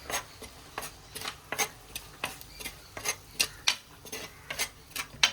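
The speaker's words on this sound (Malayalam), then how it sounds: "നമ്മൾ കുറച്ച് മുളക് പൊടി, മല്ലിപ്പൊടി, മഞ്ഞൾപ്പൊടി, ഉലുവാപ്പൊടി ഇത് കൂടി ഇട്ട് ഇളക്കുക" A spoon stirring spice powders into a fish curry in a pan, close and distinct with about a dozen rhythmic scraping clinks, one every half second.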